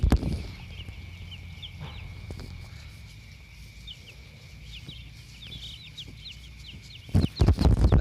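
Broiler chickens in a coop give off a steady chorus of soft chirps and clucks beneath a constant high mechanical whine, with a few louder knocks and rustles at the start and end.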